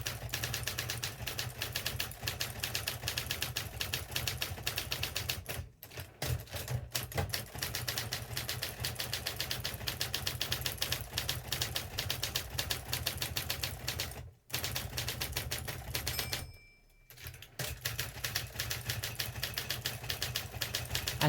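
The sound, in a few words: typing on an Adler-built Imperial typewriter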